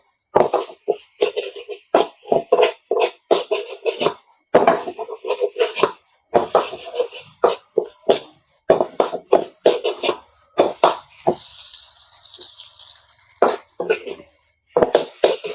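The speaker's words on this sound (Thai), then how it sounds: "เราก็ผัดให้ข้าวของเราแห้งไปเลย" Egg fried rice stir-fried in a pan until dry, with a rapid series of close scraping, tapping spatula strikes against the pan in uneven bursts, and a voice speaking at times.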